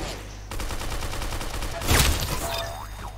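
Rapid automatic gunfire in the Roblox shooter Arsenal, a steady close burst of repeated shots running for a few seconds with a louder blast-like swell in the middle.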